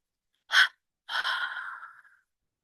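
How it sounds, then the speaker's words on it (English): Two forceful breaths during a yoga breathing exercise: a short sharp burst of exhaled air, a pause of about half a second, then a longer, rushing exhalation that fades out, with silence around them. "relax and expel with double exhalation"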